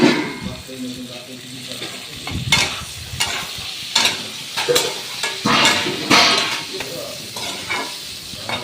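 Ginger paste and turmeric fry in a pan for a jackfruit curry with lentil dumplings, sounding as a soft sizzle broken by repeated loud stirring scrapes and clatters.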